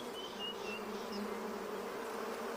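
Honeybees buzz continuously around baobab flowers, a steady droning hum with occasional higher whines as individual bees pass close.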